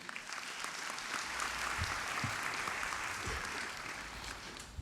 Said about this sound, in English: give yourself a round of applause for being here today